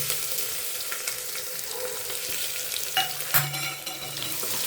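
Mustard seeds, curry leaves and garlic temper in hot oil for a wedding-style dal sambar, producing a continuous close sizzle and crackle, with a few sharper pops and scrapes near the end and no talking.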